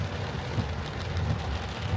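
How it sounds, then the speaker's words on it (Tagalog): Heavy rain drums steadily with a dense low rumble and broad hiss, constant and loud throughout, with no voices over it. "Ang lakas ngayon ng ulan."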